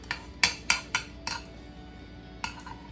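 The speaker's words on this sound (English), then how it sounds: "So now let's go ahead and chop them up." Knife chopping fresh garden chives on a cutting board: a few sharp, close taps in a quick cluster, then a pause and one more isolated chop, with no talking.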